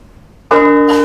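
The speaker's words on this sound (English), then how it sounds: "Let's ring the bell." Large bell in an abandoned clock tower in Liverpool struck once after a quiet moment: a sudden loud, ringing metallic clang with sustained, humming overtones, close by.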